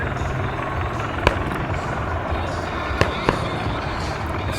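Fourth of July fireworks over Washington DC: a steady wash of crowd and ambient rumble with three sharp, distant bangs spaced out across a few seconds.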